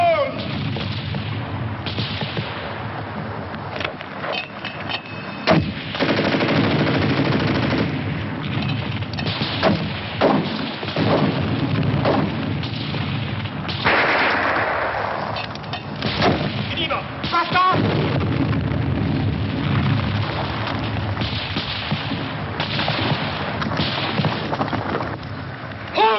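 Gunfire and explosions from a war-film battle scene fill the mix, dense and loud with repeated heavy booms and sharp shots, continuous throughout with shouted voices mixed in.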